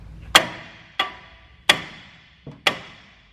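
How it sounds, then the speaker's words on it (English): A hammer strikes a steel steering knuckle on a 2007-2019 Sierra and Silverado 1500 front suspension five times at steady intervals to loosen the control arm, each blow a loud ringing metallic clang that decays quickly. "we go ahead and smack the knuckle"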